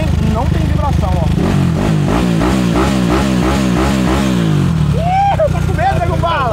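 A modified motorcycle engine revs hard through a run of rising and falling pulls, loud and close, with a rough steady idle before and after and voices talking over it.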